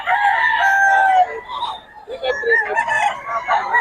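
A rooster offered for sale crows loudly and close by in a long, drawn-out call, followed by more broken crowing and clucking from nearby chickens.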